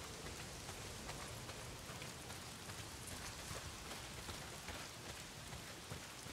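Heavy, steady downpour in the Days Gone video game, a dense unbroken hiss of rain drumming on surfaces that holds at an even, loud level throughout with no voices.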